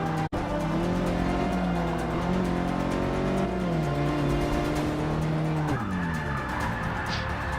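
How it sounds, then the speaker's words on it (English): In Forza Motorsport 6, a race car's engine climbs and drops through the revs as its tyres squeal continuously around the track, loud and close throughout, with no voices. "you can just hear the tyres squealing around the track"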